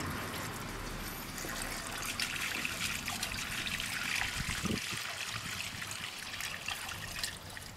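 Petrol trickles from a one-litre reserve can into the fuel tank of an old Honda Bali scooter that will not run, a steady close pour and dribble with no talking.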